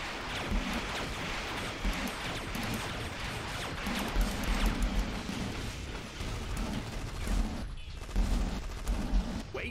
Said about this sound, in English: why am I just using my Vulcan cannons?